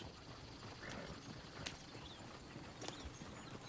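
Horse hooves clip-clop at a steady walking pace in Red Dead Redemption 2, faint and continuous against a soft outdoor background.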